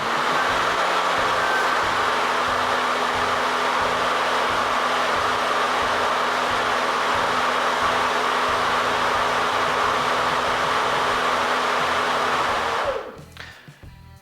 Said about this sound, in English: press the button here and activate the lawnmower